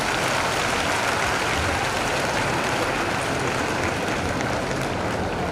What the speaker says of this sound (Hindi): तो सिंदूर पे तो ताली बजनी चाहिए मुझे लगता है।